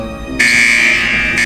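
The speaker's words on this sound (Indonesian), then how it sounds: "Suara alarm menandakan ada yang mengantar jenazah untuk Megan tangani." A loud, steady electronic alarm tone in a horror video game buzzes continuously for over a second, then cuts and briefly restarts near the end, alone without talk.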